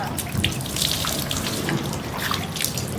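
Water pours and splashes steadily over a person during an outdoor bath with ice-cold water, a close, continuous trickle and slosh running alone for about three seconds.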